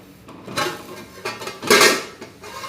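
Metal lid set down on a cooking pot while making Hyderabadi chicken biryani, giving a few clattering metallic knocks and scrapes, with the loudest clank near the end; no talking.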